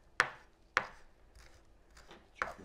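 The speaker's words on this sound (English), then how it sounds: "Chopping skills in action, I guess." Three sharp knife chops strike a cutting board as parsley is chopped, spaced unevenly, with faint scraping between them and no talking.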